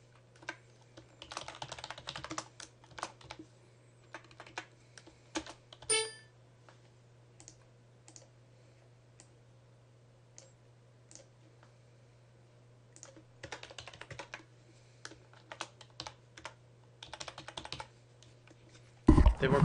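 Someone types on a computer keyboard while entering an address into a property listing form, producing clusters of light rapid key clicks in bursts separated by pauses, close and quiet over a faint steady electrical hum.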